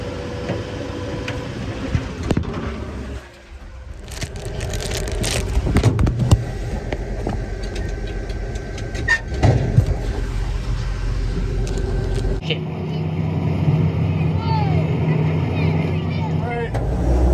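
Old Chevy truck driving and turning around, a steady close engine drone with road noise and rattles, shifting in tone partway through, while people talk over it.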